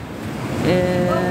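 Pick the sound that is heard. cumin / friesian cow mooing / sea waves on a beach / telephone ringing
sea waves on a beach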